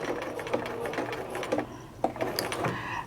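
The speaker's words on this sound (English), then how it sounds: "I'm going to put a couple stitches in, and then I'm going to back stitch" A sewing machine stitches into a fabric side seam and reverses for a back stitch, running in short steady bursts of rapid mechanical clatter with brief pauses and light clicks between runs, close up.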